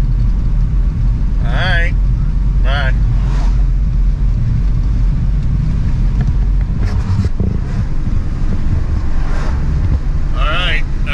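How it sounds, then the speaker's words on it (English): A car driving down the road, with steady low rumble and wind buffeting throughout, and a person speaking briefly over it at a few points. "I'm driving down the road"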